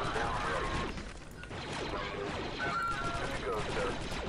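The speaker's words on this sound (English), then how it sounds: "I'm just shooting him." Rapid video game gunfire from a Star Wars-style squad shooter, crackling in dense bursts of shots mixed with mechanical clatter, with a player's voice talking over the action.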